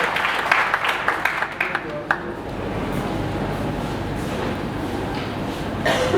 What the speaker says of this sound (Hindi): जोरदार तालियां सुशील जी के लिए।